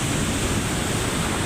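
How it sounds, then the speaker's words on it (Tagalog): Huge storm waves from Typhoon Kristine breaking on the shore at Calintaan, Occidental Mindoro, a dense continuous roar of surf filling the whole moment with no pause. "Grabing alon talaga, napakalalaki mga kadiskarte."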